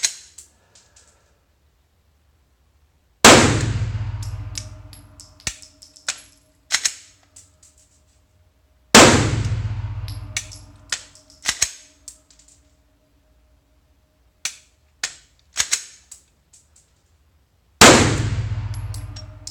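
Handgun shots on a practice range, several sharp loud reports spaced seconds apart with metallic clangs and clicks in between as the shooter handles the gun, no talk.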